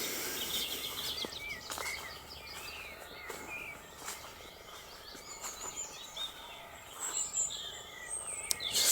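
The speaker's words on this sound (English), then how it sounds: "Just lovely listening to the birds." Birds chirp and sing outdoors, scattered high calls over a steady insect-like background hum, fairly faint and continuous throughout.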